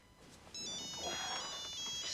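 A telephone rings in a scene from the film Love Actually, a bright electronic ringtone repeating steadily and fairly loud over low background room sound.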